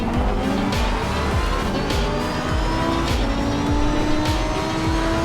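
In a racing simulator with traction control and ABS off, a car engine screams in repeated rising revs as the wheels spin and the tires squeal and slip. The sound is loud and close, with no talking over it.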